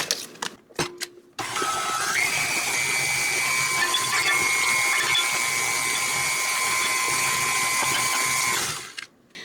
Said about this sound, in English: I'm going to go ahead and get my cream cheese mixing